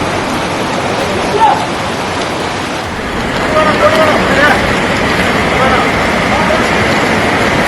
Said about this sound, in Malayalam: ആ ലെവലിലാണ് ഇപ്പോൾ വെള്ളം ഒഴുകുന്നത്.